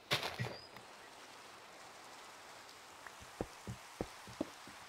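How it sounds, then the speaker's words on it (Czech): Rain falling in the video game Minecraft, a soft, steady patter with a few distinct drops landing nearby, faint and continuous with no talking, after a brief louder burst at the start. "Ale teď prostě prší."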